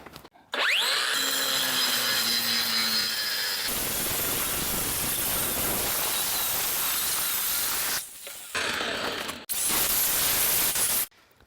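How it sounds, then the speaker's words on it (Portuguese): A Nakasaki angle grinder sands a weld on a 3 mm thick steel angle, a loud, steady, harsh abrasive hiss and whine running for several seconds, broken by brief pauses and a restart near the end. "Vou dar uma lixada nessa solda. É uma cantoneira aí de chapa 3 mm, até grossa."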